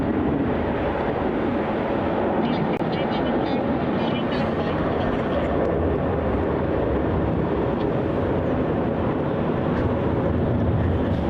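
An airliner, a Rex aircraft, takes off from Melbourne Airport with an early rotation, its engines giving a steady, loud broadband roar that holds throughout while commentators talk over it.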